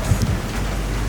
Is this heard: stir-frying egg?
no